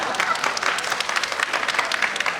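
Audience applause at a ballet festival, a dense steady patter of many hands clapping, sustained and fairly loud throughout.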